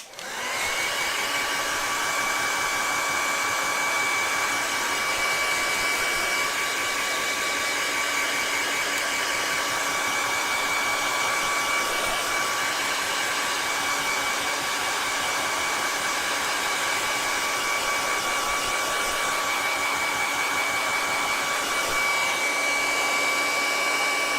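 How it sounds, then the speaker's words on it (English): A hair dryer blows on wet acrylic paint, a loud, steady whirring hum with a constant high whine that runs unbroken for over twenty seconds, with no talking. "I'm gonna take the hairdryer to it and then let it set"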